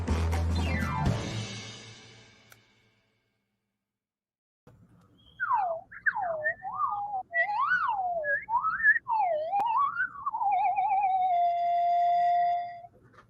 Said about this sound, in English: Man, I'm getting really good at this slide whistle.